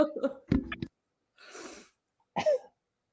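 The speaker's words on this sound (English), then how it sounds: "Get that cough out of my lung." A person coughs in several harsh bursts close to the microphone, starting with a rapid cluster, then a breathy throat-clearing exhale after a pause, and one final sharp cough with a rough vocal edge.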